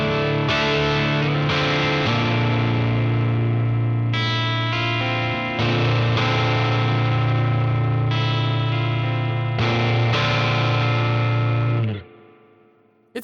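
Electric guitar with an underwound pickup played through added gain, brittle and ice-picky distorted chords ringing loud and sustained in several strummed hits before fading out.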